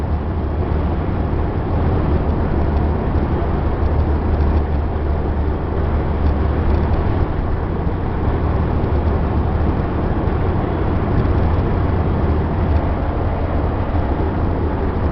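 Bluebird bus cruising along the road, a steady, subdued low rumble of engine and road noise that stays even and fairly quiet throughout, with no talk.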